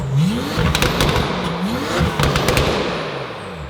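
A Porsche 911 Turbo S engine, said to make around 1,000 horsepower, revs sharply several times in quick succession, each blip rising and falling, loud and close.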